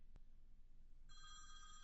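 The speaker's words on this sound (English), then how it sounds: "there's the phone call coming in" A telephone rings for an incoming call to a radio station. An electronic warble starts about halfway through and rings steadily to the end over a quiet hiss.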